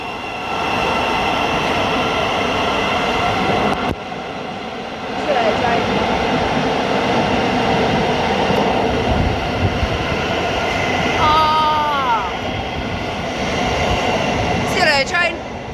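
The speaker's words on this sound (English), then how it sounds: "Train." A train at London St Pancras International low level station, a steady rumbling drone through the whole stretch with brief squealing wheel tones near the end, while people talk nearby in the background.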